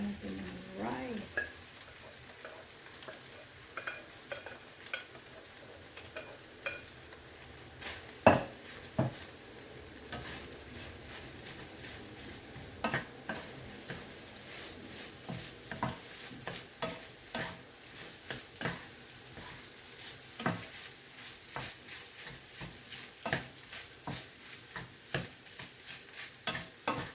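Garlic fried rice stirred in a pan, a spatula scraping and clinking against the metal in irregular strokes over a soft sizzle, close by, with occasional background noise.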